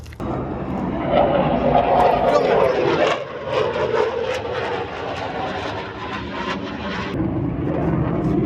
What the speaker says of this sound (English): that's an F-16 Raptor just casually flying over us